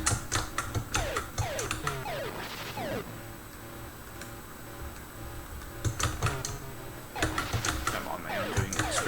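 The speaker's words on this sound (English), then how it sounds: "I'm doing experimentations on the keyboard." Rapid clacking keystrokes on a computer keyboard in bursts, with quieter stretches in between, set over a steady background hum.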